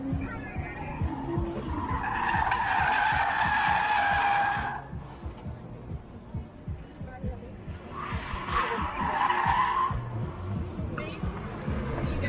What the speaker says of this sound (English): I squeal tires constantly going really slow